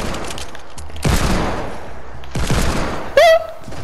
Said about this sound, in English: I tried to shoot you!